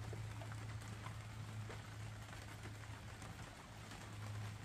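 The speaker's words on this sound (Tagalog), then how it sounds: "Ay, naku, ulan." Steady rain patters across a surface with a low hum underneath, a constant even wash of drops without pauses.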